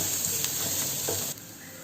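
Onions sautéing in a pan for chilli idli, heard as a dense, steady close sizzle that drops off slightly near the end, with no one speaking.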